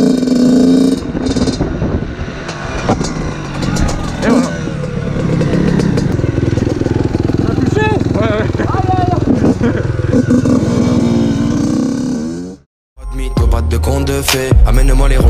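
Yamaha YZ85 dirt bike engine revving hard and repeatedly during a wheelie demo, loud buzzing two-stroke bursts with wind noise and clatter, cutting out briefly before revving again near the end.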